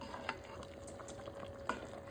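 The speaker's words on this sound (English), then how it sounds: "Just stirring them, making sure the water has not boiled out." Spoon stirring a pot of Great Northern beans simmering with a big ham bone, with two soft scraping knocks against the pot over a quiet bubbling background.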